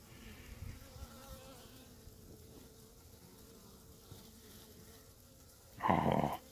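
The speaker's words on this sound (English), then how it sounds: "Anybody want a spoonful of bees?" A cluster of honeybees festooning on a spoon gives a low, steady buzzing hum, faint and continuous, swelling into a sudden loud burst near the end.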